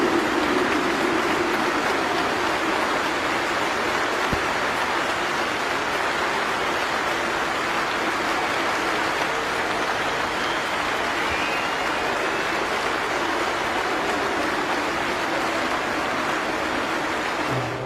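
Sustained broadband applause from a large cricket crowd marking Joe Root reaching 150 against Pakistan in a 2016 Test, a steady wash of clapping at even loudness throughout.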